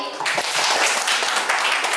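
Audience applause at a community health talk for engaged couples in Indonesia, a dense steady patter of many hands clapping close by, broadband and sustained for the whole moment with no clear pauses.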